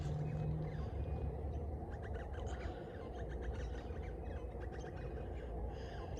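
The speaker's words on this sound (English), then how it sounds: "So what am I hearing there? Little twittering birds" Small birds twitter in wetland bushes at early morning, faint high chirps scattered over a steady low rumble of background noise, with no talk.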